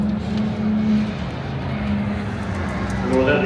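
Cars pull away on their warm-up lap at Silverstone circuit, a blend of engine drones heard from a little distance over a steady rumble. The tone rises slightly near the end as engines rev up.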